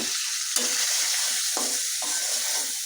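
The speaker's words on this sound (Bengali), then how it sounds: "এখন তেলের উপরে হালকা একটু কষিয়ে নিচ্ছি" Chilli powder, turmeric and salt sizzle in hot oil in a frying pan, a steady loud crackle broken by a few scraping stirs of a spoon, with no talking.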